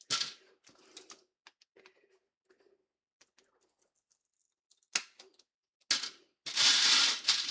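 Small sharp snips of scissors cutting spicy cinnamon hard candy, scattered irregular clicks and ticks close by, followed by a few louder clattering bursts near the end, without speech.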